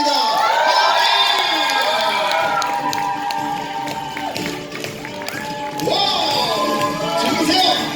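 Young children cheer and shout loudly as a crowd at a daycare performance, with scattered clapping under the sustained, bright chorus of voices.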